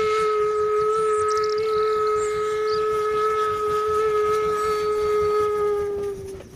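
A toy train locomotive whistle holds one steady, loud pitch for about six seconds, then cuts off abruptly.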